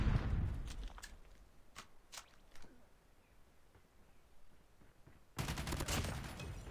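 Gunfire in the Call of Duty Mobile game during a hardcore clan war match: a handful of sharp, separate shots early on, then a dense burst of rapid fire near the end, moderately loud.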